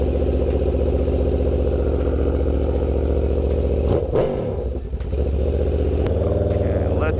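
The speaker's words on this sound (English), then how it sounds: "let's hear what this bike sounds" An Aprilia RSV4 motorcycle engine runs close up with a steady, throbbing note, then dips briefly as if blipped or shifted before settling back into a constant rumble.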